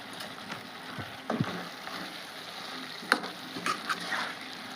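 Prawn and egg curry with chilli powder sizzles in a frying pan as it is stirred, giving soft scrapes and a few sharp utensil clinks over a steady low crackle, close and unvoiced.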